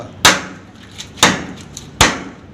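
Three sharp, evenly spaced blows of a hammer tapping a thick PVC pipe fitting into place while replacing a rusted hot water pipe, loud and close with short ringing decays.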